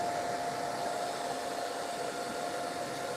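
Steady, loud hair dryer roar with a whining tone, blowing continuously on washed hair without pause or talk.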